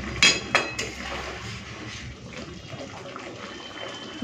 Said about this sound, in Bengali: তো হালকা হাতে নাড়তে হবে